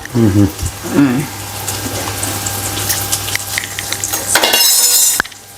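Food sizzles and crackles in hot oil with a steady hiss, joined briefly by a few clinks of utensils near the start and end.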